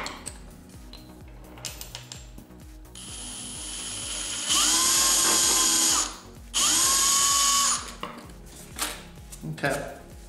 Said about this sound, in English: it's the 2mm drill now.